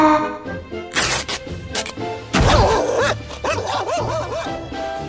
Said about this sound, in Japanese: なぜか犬のような鳴き声に、超強力な能力を持ち始めるピーコなのであった。